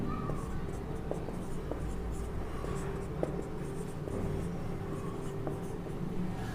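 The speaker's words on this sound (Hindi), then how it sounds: "थोड़ा सा छोटा छोटा लिखते हैं।" Chalk or marker writing on a board during a chemistry lesson, heard as faint, quick tapping and scratching strokes over a steady background hum and room noise.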